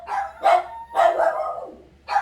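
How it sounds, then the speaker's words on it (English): Dogs bark in a home, sharp close barks in a quick irregular series of four, loud and alone with no talking. "when my dogs are not barking"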